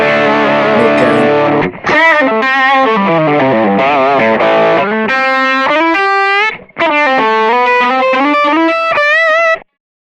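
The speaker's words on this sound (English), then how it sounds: "That's currently set to tube screamer sound, so just a classic overdrive." Electric guitar through a Boss GT-Pro set to a Tube Screamer overdrive plays a melodic riff with bends and sustained notes, warm tube-style crunch, loud and close, a short pause partway through.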